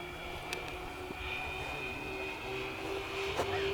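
LX Super B-25 Mitchell 2000mm RC bomber model making a full-throttle pass, a steady distant engine drone held throughout at moderate level against outdoor background noise.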